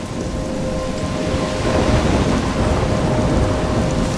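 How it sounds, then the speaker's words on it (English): Heavy rain and rolling thunder from a stormy scene in the video game Life is Strange, a loud, steady roar of rainfall with a low rumble throughout and no voices. "I'm trapped in a storm?"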